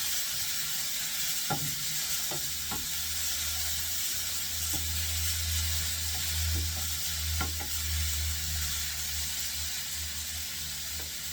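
Ground beef sizzles and fries steadily in a hot pan, a continuous hiss with occasional soft pops and stirring clicks, heard close and without any talking.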